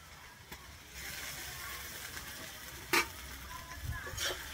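Ginger, garlic and green chili paste fries in a pan after the onions, giving a steady moderate sizzle with a few sharp clicks of a stirring spoon and no talking.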